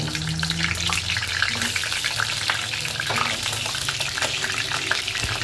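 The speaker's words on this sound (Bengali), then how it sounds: "গরম তেলে আমরা আলু দিয়ে দেব।" Potatoes frying in plenty of hot oil with cardamom while cooking a beef and potato curry, a loud continuous crackling sizzle with bursts of spitting, close up and unbroken.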